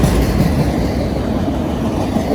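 A Union Pacific freight train with six locomotives, including a cabless slug and two distributed power units, rumbling past nearby with a loud, continuous roar and faint wheel clatter.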